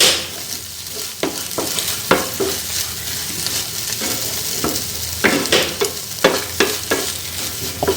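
Okra and egg thoran being stirred and fried in a pan on a gas stove, a steady sizzle under repeated scraping and clinking strokes of a spoon against the pan, close and fairly loud.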